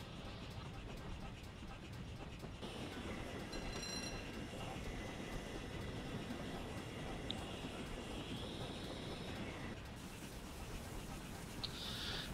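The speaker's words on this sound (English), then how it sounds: "Have a train coming up the bank." A Castle class steam locomotive hauling the Torbay Express in Train Simulator 2016 runs as a steady, fairly faint rolling rumble of wheels and carriages, with light metallic squeals and clicks over it.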